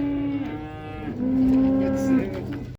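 A calf moos loudly in two drawn-out, tonal calls close by at a livestock market, with no talking.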